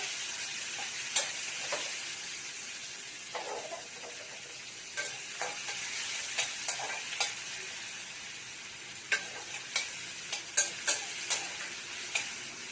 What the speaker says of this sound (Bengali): পেঁয়াজটা একটু লাল লাল ভাজা হোক।